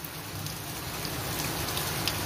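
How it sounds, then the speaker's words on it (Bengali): Heavy monsoon rain pouring down, a dense continuous hiss of drops hitting surfaces close by, steady and unbroken with no voices. "খুব বৃষ্টি হচ্ছে"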